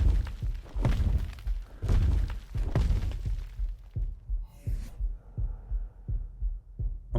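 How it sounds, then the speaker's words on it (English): A heartbeat warning pulses from ARK Ragnarok as the player's health drops, a steady series of deep, booming thuds repeating about every second and a half, loud and close, with no talk over it. "That is until I started hearing the heartbeat."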